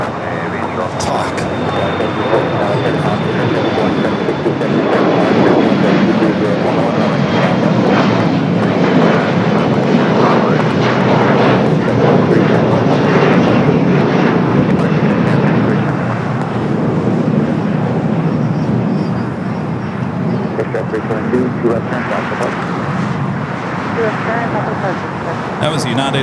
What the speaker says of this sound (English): That was United Express SkyWest Flight 5371 heading to Salt Lake City